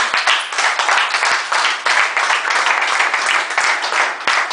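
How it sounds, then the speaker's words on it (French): Church congregation applauding loudly, a dense, continuous burst of many hands clapping close by, sustained and even with no voices standing out. "Acclamons très fort pour le Seigneur"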